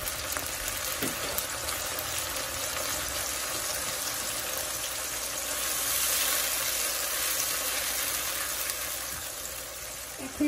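Steady broadband sizzle of water hitting onions frying in a hot pan, a continuous hissing crackle that swells slightly midway, heard close and alone with no talking.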